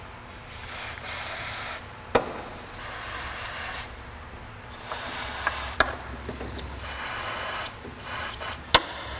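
Super Breaker rust penetrant sprayed onto exhaust header bolts on an Acura Integra. Several loud aerosol hisses, each lasting one to two seconds, are broken by pauses and sharp metallic clicks, all close up.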